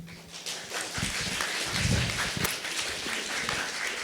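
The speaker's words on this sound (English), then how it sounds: "Let's give a round of applause" An audience applauds after a presentation, a dense steady wash of clapping lasting several seconds, with a voice briefly audible underneath.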